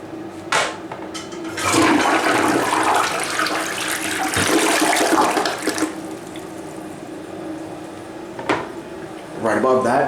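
An American Standard toilet in a stained hotel bathroom flushes with a loud rushing surge of water that tapers into refilling trickles, and a person talks briefly before and after.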